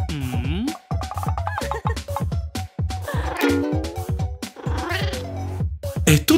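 A cat meows repeatedly and insistently up close, in a string of drawn-out, wailing calls separated by short pauses.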